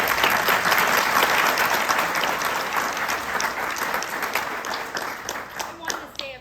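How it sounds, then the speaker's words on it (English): An audience at a celebration of life applauds warmly, with loud, dense clapping at the start that slowly thins and fades, leaving scattered claps toward the end. "I want to give a round of applause to Spencer."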